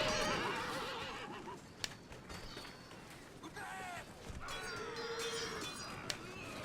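Cavalry horses in the Shogun Total War video game neigh and whinny several times over a steady rumble of battle noise and hoofbeats, with game voices mixed in.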